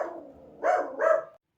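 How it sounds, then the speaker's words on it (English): A dog indoors gives two short barks in quick succession, close and clear, after a low rumble, with no talk. "my dog started barking"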